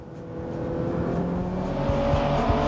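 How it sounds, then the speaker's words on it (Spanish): A 1955 Ferrari 410 Sport racing car drives at speed, its engine a steady, rising drone that swells slightly over the few seconds and stays continuous and fairly loud, with no voices. "Este Ferrari 410 Sport, fabricado en 1955, aún es capaz de alcanzar gran velocidad en línea recta"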